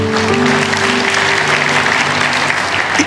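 A church congregation applauds during a sermon, loud and sustained clapping from many people filling the space, with low sustained tones from instruments underneath fading out partway through.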